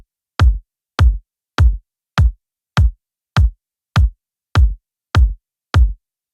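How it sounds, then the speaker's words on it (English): Kick drum with an added layer kick enabled in a music production session, eleven solid low thumps in a steady, slightly quicker pulse, each with a crisp attack and tight decay, alone without other instruments. "now that I have the kick layer enabled, it sounds like this."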